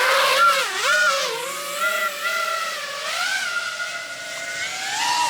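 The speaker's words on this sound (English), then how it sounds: "The sound of the propellers is crazy." A GEPRC Mark5 FPV freestyle drone in flight, its propellers giving a loud, close whine whose pitch swoops up and down with throttle changes, continuous and alone for several seconds.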